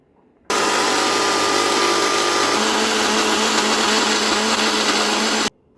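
An electric blender grinds green chutney of coriander, mint, green chillies, onion, raw mango and tomato, a loud continuous whirring roar that starts and stops abruptly after about five seconds, with no talking.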